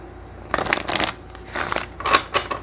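Tarot cards are shuffled in several quick, crisp riffling bursts, close and papery, separated by short pauses, with no voices.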